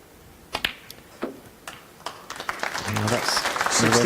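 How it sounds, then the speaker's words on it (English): Snooker audience in a tournament arena breaking into applause after a few isolated sharp clicks, the clapping swelling and building while a commentator's voice talks over it. "applause tells you that's the frame safe, barring snookers"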